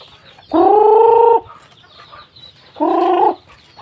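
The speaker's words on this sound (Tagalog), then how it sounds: "mga manok at nagdagdag tayo ng pato" Two drawn-out, harmonic chicken calls ring out close by, each lasting about a second, with a short pause between them over quiet farmyard background.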